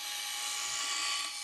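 A Geneva wheel mechanism with stainless steel fasteners and nylon washers, driven by a gear motor, gives a steady high-pitched mechanical whir with a continuous hum, close and unbroken throughout.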